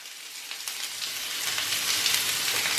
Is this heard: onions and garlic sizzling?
yes